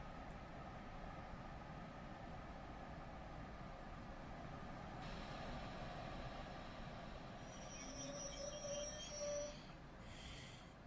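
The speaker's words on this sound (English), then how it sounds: "This is the SNCF TGV Duplex French high-speed train." A French SNCF TGV Duplex high-speed train running in a train simulator game, heard as a steady, fairly quiet rumble of rail noise with a brief high squeal near the end.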